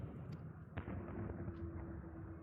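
A few sharp cracks of gunfire in Final Fantasy XIV ring out over a steady low rumble and hum, with one louder report standing out amid the din.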